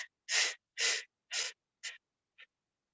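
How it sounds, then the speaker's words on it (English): Five or six breaths come in sequence, close and fairly soft, each a short airy rush tapering away. The last ones are quieter and shorter, part of a guided deep inhale and cleansing exhale during a breathing exercise. "taking a big inhale and a cleansing exhale"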